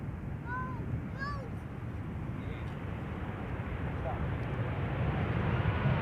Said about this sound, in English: That's the KLM 777 arriving from Cape Town in South Africa.